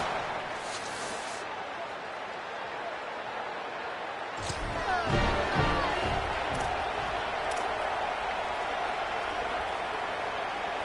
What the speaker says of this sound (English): this Peach Bowl crowd is electric